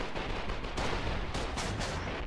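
Tank cannon fire in Foxhole, a rapid burst of loud, close blasts and gunfire crowded into a couple of seconds of nonstop combat noise.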